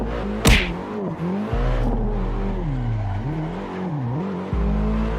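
A Nissan S15 drifting in Assetto Corsa revs hard, its engine pitch swinging up and down through repeated throttle blips, with a quick whoosh near the start.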